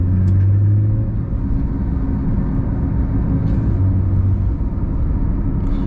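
A Porsche 911 992 GT3 engine drones loud and steady from inside the car while driving, a dense low rumble with a slight swell in the first second, with no voices.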